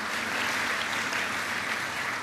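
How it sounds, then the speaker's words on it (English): A dinner audience at the 2011 Graeme Clark Oration applauds student award winners with a steady, dense wash of clapping from many hands that lasts throughout, with no voices over it. "Let's give them a big applause"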